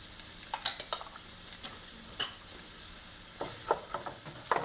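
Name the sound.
onions, carrots and celery sweating in olive oil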